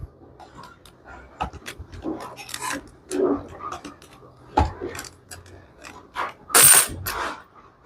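Close, sporadic metallic clicks, ratcheting and scraping from screws being tightened by hand on an arcade coin pusher machine, with irregular bursts and short pauses between turns.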